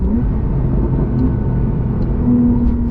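Porsche 911 Targa 4S engine rumbling steadily at close range during a downshift, a continuous low exhaust drone with faint pops barely rising above it, no voices.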